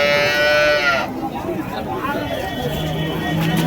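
A cow lets out a loud, close moo at a cattle market in Vaniyambadi, India, breaking off into the murmur of a busy crowd, with people talking nearby.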